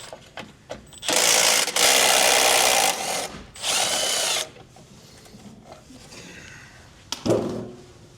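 A power tool whirs in several short, loud bursts while the last bumper nut comes off a 2024 Chevrolet Colorado during a trailer hitch install, followed by quieter clinks and handling noises.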